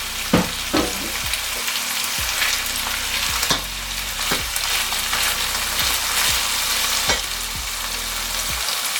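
Ackee added to a pot of saltfish for Jamaican ackee and saltfish, sizzling steadily, with occasional spoon scrapes and stirring knocks, close and continuous, with no talk.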